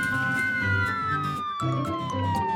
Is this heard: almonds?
no